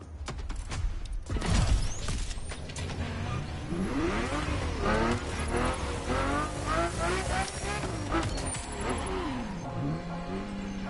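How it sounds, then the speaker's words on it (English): Ferrari GTO supercar driven in the racing game The Crew Motorfest, its engine revving and rising in pitch through gear changes, with tire squeal and skidding, loud and close throughout. "The car you're about to drive in this opening event is none other than the first Ferrari in the supercar bloodline, the Ferrari GTO."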